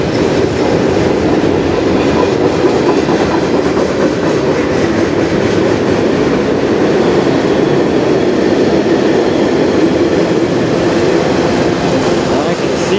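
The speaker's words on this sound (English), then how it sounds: "there's another yard train way down there" Loud, constant rumble of a train rolling past close by, with steady rattling and clatter throughout.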